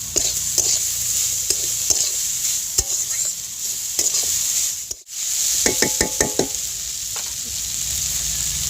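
Grated potato stir-fried with spices in a pan for a filled samosa, a steady sizzle with repeated scraping strokes of a spatula; a brief pause near the middle, then quick clicking scrapes against the pan.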